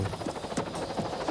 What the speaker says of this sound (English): straight up in the helicopter, please